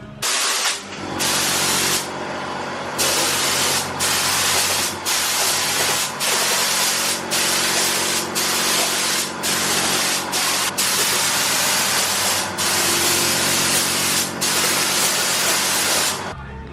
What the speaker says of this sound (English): and then we can get to spraying.